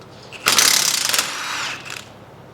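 Ratchet wrench spinning off upper and lower suspension arm bolts, 15 mm and 18 mm, on a CFMOTO ZFORCE Sport side-by-side: one loud, close burst of rapid clicking lasting about a second and a half, then a quieter tail.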